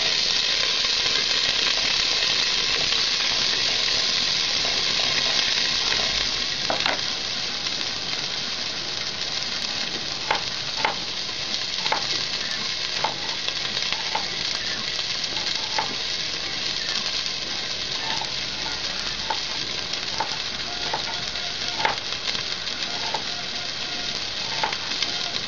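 Onions for chutney sit in a pan, frying and browning with a constant loud sizzle, broken by a run of small clicks and taps from a utensil. No one talks.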